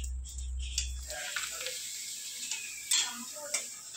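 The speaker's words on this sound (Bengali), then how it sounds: "এদিকে পাঁপড় ভাজছে মামনি" Papad frying in hot oil in a home kitchen while biryani rests on dum nearby, a steady soft sizzle with a few sharp clinks of utensils, moderately close and without talk.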